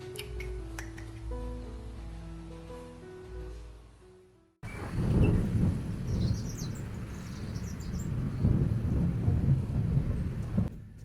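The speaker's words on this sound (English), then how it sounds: "It's raining so hard." Heavy rain falling outside a small house at year's end, a dense roaring downpour with rumbles of thunder that starts abruptly after a quiet, tonal opening and stays loud and close to the end.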